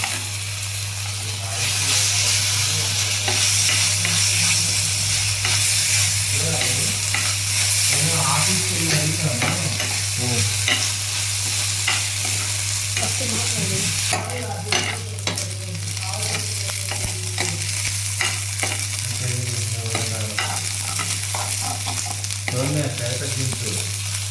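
Ginger and shallot paste with chopped ivy gourd sizzling and frying in a pan while being stirred, a constant loud hiss with scraping stirs and a steady low hum underneath.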